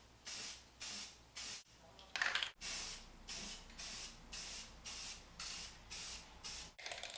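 Rust-Oleum Professional spray paint sprayed onto a pipe, a steady series of about ten short hissing bursts in an even rhythm, close and clear, with a slightly longer burst near the middle.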